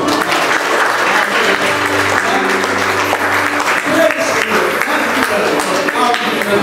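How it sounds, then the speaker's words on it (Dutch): Sustained audience applause fills a church gathering after thanks for donations to a renovation, loud, dense clapping throughout with crowd noise and some voices mixed underneath. "geef een applaus nog."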